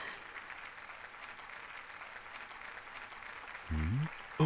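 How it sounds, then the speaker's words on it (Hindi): In an anime scene, an audience applauds to welcome a university space-science professor: faint, even clapping runs throughout at a distance, with a short voiced sound near the end. "प्रोफेसर योके का तालियों के साथ स्वागत करें"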